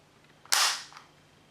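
A single sharp pop from a Tokyo Marui Desert Eagle airsoft pistol, close and loud, with a short rattling tail, nothing else around it.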